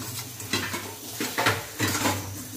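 Chopped onion and ground masala paste being stirred in oil in a pan for stuffed bitter gourd, a spoon scraping and clanking against the metal in uneven bursts, close and fairly loud, with no talking.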